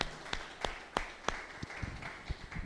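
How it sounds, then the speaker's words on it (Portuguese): Rhythmic hand claps ring out in a church congregation during a sermon, a handful of sharp, fairly evenly spaced claps over a low murmur of room noise, with scattered softer taps toward the end. "Uma salva de palmas a Ele."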